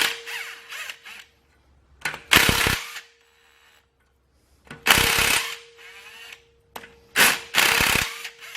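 A hand ratchet clicks in several bursts while the top nuts are pulled from a Toyota solid axle during teardown, loud close rapid clicking separated by quieter gaps.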